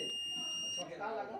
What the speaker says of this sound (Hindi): IGBT में शॉर्टिंग बता रही है, देख सकते हैं बीप की आवाज़ सुन सकते हैं आप